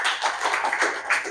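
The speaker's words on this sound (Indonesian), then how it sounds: "tepuk tangan untuk Rika" A classroom of students applauds a classmate, a dense, steady patter of many hands clapping together close by, holding an even level for a second or so without speech.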